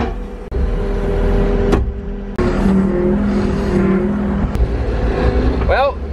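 Skid steer loader engine running steadily at a farm gravel job, a continuous loud mechanical drone with brief dips near the start and middle, plus a short rising whine near the end.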